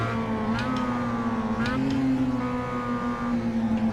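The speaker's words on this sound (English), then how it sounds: "you could hear how high the humming of the car was when I geared down" A race car engine in the racing simulator iRacing drones at a steady high pitch, its tone dipping and rising briefly as it downshifts, continuous and close.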